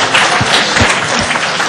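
A gaming Q&A audience bursts into loud, close, dense applause, a brief unbroken roar of many clapping hands with a few heavier thumps underneath.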